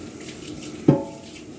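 Tap water runs steadily while dishes are rinsed at a kitchen sink, a continuous hiss broken by one sharp clink of a dish near the end.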